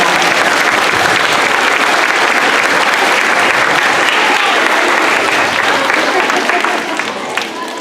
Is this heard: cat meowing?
no